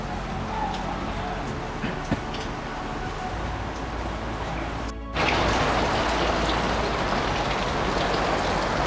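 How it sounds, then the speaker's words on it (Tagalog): Rain falls steadily inside a house, water coming through the roof or ceiling and dripping into rooms. It makes a dense, continuous patter that swells louder and fuller after a brief dip partway through. "Umulan din po dito sa loob ng bahay nila tatay."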